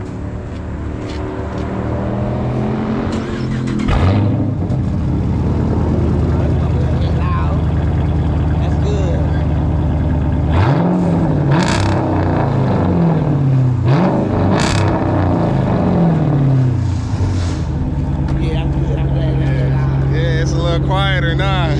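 Straight-piped Dodge Charger R/T exhaust on a warm start, a loud deep idle rumble punctuated by several sharp revs that rise and fall, with people talking nearby.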